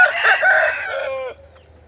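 A rooster crows once, loud and close, the call rising and then trailing off into a drawn-out fading note before quiet.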